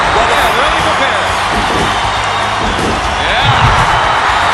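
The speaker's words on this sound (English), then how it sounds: "Listen to the fans. They are standing and cheering." A wrestling video game crowd cheers and roars on its feet, a loud, dense wall of sustained noise that fills the arena throughout, with faint thuds from the ring underneath.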